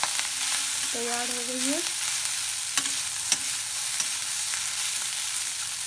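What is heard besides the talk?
stirring and mixing poha in a pan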